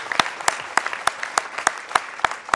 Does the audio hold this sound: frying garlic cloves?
no